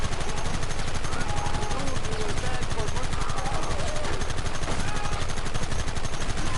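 Gunfire in the video game Red Dead Redemption, a dense continuous barrage of rapid shots at constant loudness, with voices shouting underneath.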